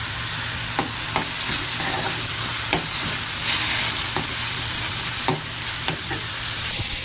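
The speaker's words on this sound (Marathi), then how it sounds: "कांदा ऍड केलेला आहे. छानपैकी पोळून घेऊया." Chopped onion frying in a pan, a loud continuous sizzle broken by regular sharp spatula clicks and scrapes as it is stirred, no voices.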